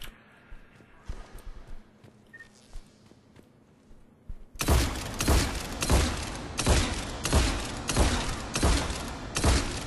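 The Scimitar shotgun fires rapidly in Mass Effect 3 target practice: after a few seconds of quiet game ambience, a loud, steady string of heavy booming blasts runs close and continuous to the end.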